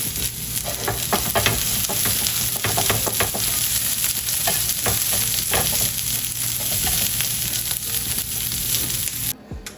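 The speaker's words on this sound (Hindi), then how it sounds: "अब हम कर रहे हैं थोड़ी सी कैबेज को स्टर फ्राई" Cabbage stir-fries in a hot pan for fried rice, a continuous close sizzle broken by repeated scraping and tossing strokes of a spatula, with no voices, ending abruptly.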